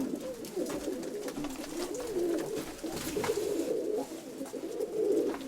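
Pigeons coo steadily in soft, rolling, overlapping calls close by, continuing throughout with faint background ambience.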